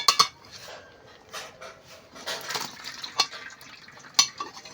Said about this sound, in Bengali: আর এইভাবে জল ঝরিয়ে নিতে হবে।